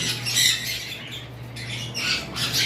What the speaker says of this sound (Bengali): এগুলো মাস্টার পেয়ার পাখি